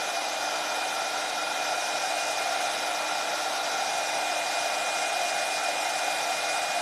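Heat gun blowing hot air onto metallic paste on a wood box, a steady, even whooshing hiss of constant loudness lasting the whole stretch, close and with no talking.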